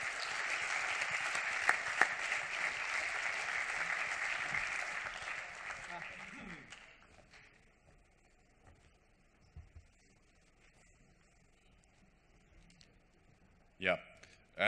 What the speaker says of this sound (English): give a last applause to the speakers.